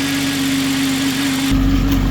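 A car engine idles steadily up close with a low droning hum, growing rougher and louder for the last half second.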